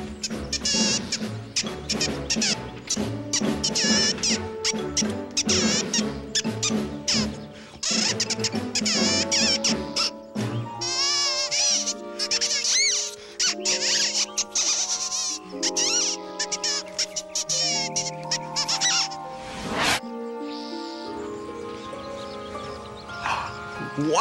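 Rapid high-pitched squeaks and bleat-like cartoon sounds fill a children's TV show, loud and continuous over bright music, with a brief pause near the end before they resume.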